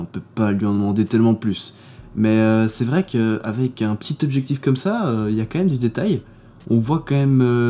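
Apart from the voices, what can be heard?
None of the usual background noises is heard.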